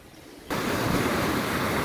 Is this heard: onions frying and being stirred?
no